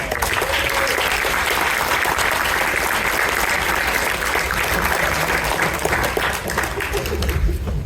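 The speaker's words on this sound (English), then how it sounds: "Can we have a round of applause for Ragnar Shadow?" Sustained audience applause at a furry improv show at ConFuzzled 2023, a dense steady wash of clapping from a large crowd lasting several seconds, with faint voices mixed in.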